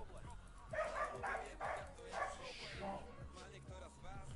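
A dog whimpering and yipping in repeated short, high cries over background noise, with people talking underneath.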